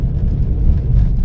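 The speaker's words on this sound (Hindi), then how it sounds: "ये मैं देखिए अब सेकंड गियर पे है, और ये देखिए गाड़ी का परफॉर्मेंस क्या है।" A Tata Nexon with more than 1.5 lakh km on it, fresh from a major service, accelerates in second gear. The engine drone is close, loud and steady, with no voices.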